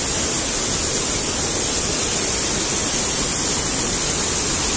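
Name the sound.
rushing mountain stream near Shipit waterfall, Carpathians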